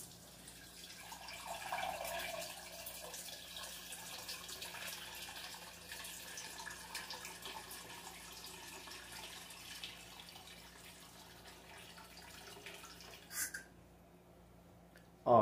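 Tap water runs steadily into a container in a home kitchen, a faint, continuous low trickle with a few small clatters toward the end.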